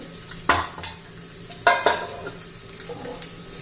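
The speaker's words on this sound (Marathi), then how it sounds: "त्याच्यामध्ये आपण पहिला लसूण घालून घेऊया थोडं जिरं घालायचे" Garlic and cumin seeds sizzling in hot oil in a pan, a steady frying hiss with a few sharp spatula scrapes and stirring clatters close by, no talking.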